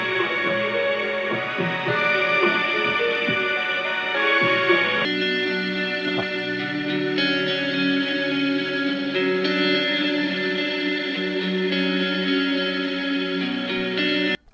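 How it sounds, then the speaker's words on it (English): Reverb-soaked electric guitar with echo effects in a track, layered melodic lines ringing continuously at steady loudness with no talking over it. "that guitar with the reverb and the echo, I would like that in a metal song"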